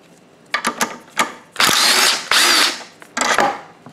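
An impact wrench spins out 10 mm bolts holding the brake caliper on a scooter or motorcycle wheel: several short close bursts, then two longer loud rattling whirs and a final burst, with no talking.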